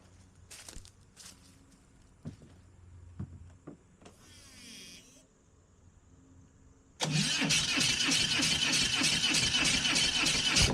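A BMW engine fitted to a Hoverstar 2+2 hovercraft with a new drive frame and fan turns over, then fires up to a loud, steady roar. Quieter clicks and mechanical handling come first.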